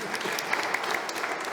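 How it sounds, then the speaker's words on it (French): A theatre audience at a live stage show applauds a volunteer called up from the crowd, a short, dense burst of steady clapping heard without any talking. "On applaudit bien fort Christian"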